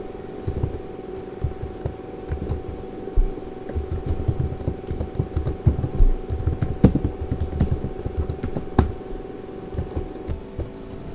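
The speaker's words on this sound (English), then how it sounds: "type R in uppercase and hit enter key" Fingers type on a computer keyboard at an Ubuntu terminal, entering a command: a steady run of close, uneven key clicks and taps for about eleven seconds, with no voices.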